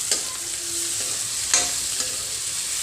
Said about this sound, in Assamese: এইফালে খুন্দি থোৱা আদা নহৰু পেষ্টটো দি দিছোঁ এইখিনি ৰঙা হোৱালৈকে অলপ ভাজি ল'ম